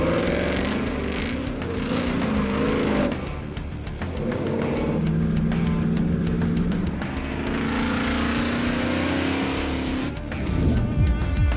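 Chevrolet Suburban engine roaring loudly and continuously while driving hard and jumping, with revving swells, brief dips and a rough mechanical rattle, close and sustained with no talk.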